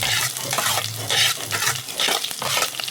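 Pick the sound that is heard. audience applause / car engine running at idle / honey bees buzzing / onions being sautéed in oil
onions being sautéed in oil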